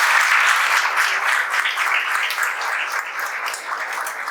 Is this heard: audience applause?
yes